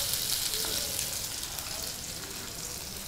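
Spice paste frying in hot oil in a pan for a fish and okra curry, a steady close hiss and sizzle throughout with faint crackles, no talking.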